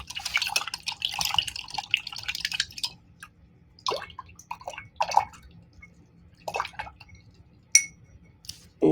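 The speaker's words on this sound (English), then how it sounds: "And now I'm going to wash my brush." Paintbrush rinsed in a water jar between acrylic colours, with a few scattered splashes and clinks of the brush against glass in a quiet room, close and fairly soft.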